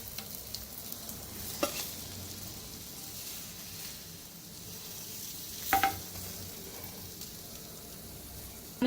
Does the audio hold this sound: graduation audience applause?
no